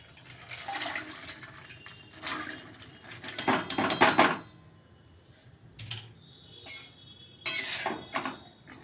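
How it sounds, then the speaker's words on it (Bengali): Potatoes splash and clatter into a metal pot of water on the stove, bursts of rattling knocks and watery sloshes in separate clusters, close and fairly loud with quiet gaps between. "এবারে আমি আলুটা দিয়ে দেবো।"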